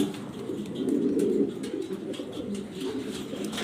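Jharna shirting pigeons coo in a steady, low, rolling murmur from nearby, one soft cooing phrase swelling and fading over a few seconds with no voices.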